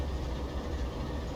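An NS Dash 8-40C freight locomotive in Train Simulator Classic gives a steady, deep engine rumble, close and even, with no change over the short stretch.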